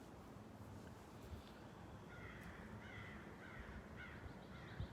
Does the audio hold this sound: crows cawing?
yes